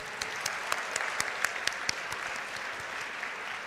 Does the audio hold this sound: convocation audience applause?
yes